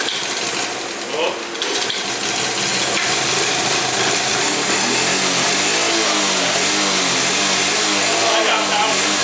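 A rare Honda TRX 70 ATV engine runs loud and close, buzzing steadily and revving up and down after a hard start, with a person speaking briefly.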